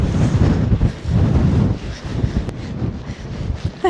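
Gusty outdoor wind on a bridleway near horse stables buffets the microphone with a steady, loud, rumbling roar that swells and eases without letup.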